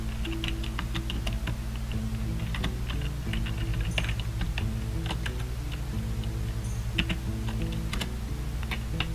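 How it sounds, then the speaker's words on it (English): Rapid, uneven clicking of keys on a computer keyboard during a late-night Hearthstone session, close and steady throughout over a low electrical hum, with no talking. "I'm so bad at typing."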